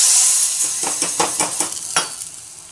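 Hot oil sizzles with a bright hiss as cumin is tempered for mango lonji, while a few clinks of a spoon against a pan ring out over it.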